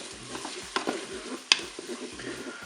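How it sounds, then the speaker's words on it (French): Corn is stirred into fried rice in a Cookeo cooker, soft scraping and occasional spoon clinks over a faint sizzle, close up and quiet. "Et puis le maïs. On mélange bien sûr tout ça."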